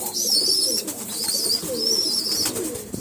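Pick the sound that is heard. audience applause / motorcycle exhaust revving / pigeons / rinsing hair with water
pigeons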